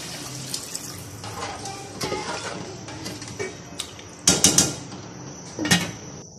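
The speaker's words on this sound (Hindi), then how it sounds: "अब हम इसके अंदर पानी डालकर इसको ढक देंगे।" Water poured into a cooking pot of fried masala for biryani pulao, a running splash with clinks of metal pot and utensils, ending in a few sharper clanks.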